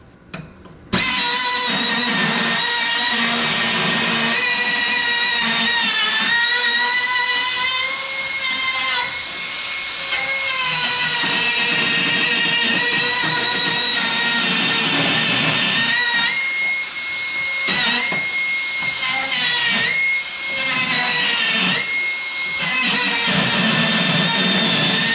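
A power tool grinds and deburrs the edges of a rear differential part in a garage workshop, with a loud, continuous, steady whine holding for the whole stretch, the pitch wavering slightly as the tool works around the edges.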